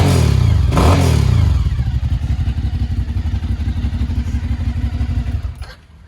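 A Kawasaki H1 motorcycle with 92,000 miles runs steadily up close, its engine loud and evenly pulsing throughout before the sound drops off sharply at the very end.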